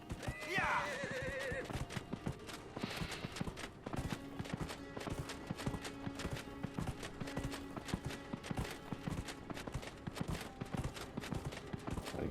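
Rhythmic horse hoofbeats in Dragon Age: Inquisition clip-clop steadily at a trot, with a horse whinny near the start and a faint steady hum underneath.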